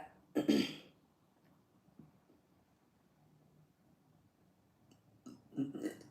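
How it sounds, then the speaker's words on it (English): A person's burp, a short loud burst near the start, followed by quiet room tone and a second guttural burst near the end, close to the microphone. "Sorry, I knew I had to burp."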